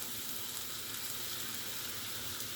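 Agathi greens sauté in a pan with a continuous, even sizzle and crackle, quiet and close, with no voices.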